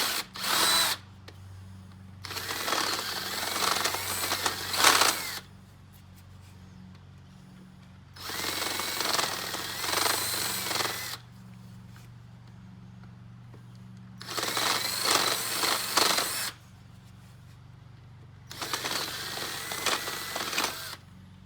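A power drill whirs in four long bursts of a few seconds each, drilling angled holes into wood for a carpenter bee trap, with quieter pauses and a low hum between runs.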